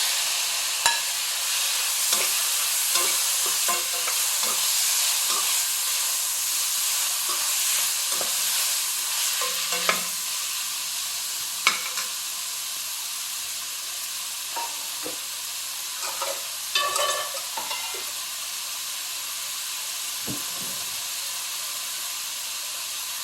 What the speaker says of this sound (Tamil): தக்காளி போட்டுக்கிறேன்